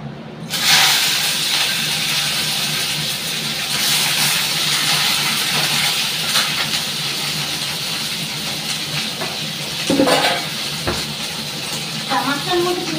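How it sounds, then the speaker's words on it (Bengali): A fish drops into hot oil in a wok and bursts into a loud, close, sustained sizzle and hiss, with a few brief clattering spikes as it keeps frying. "তেলটা গরম হয়ে গেছে, তা মাছটা আমি ভাজা বসিয়ে দিই।"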